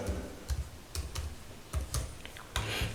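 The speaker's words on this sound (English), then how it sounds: "Now come to this place and type in control center" Someone types on a PC keyboard in several separate bursts of crisp, close key clicks with short pauses between them. No voices are heard.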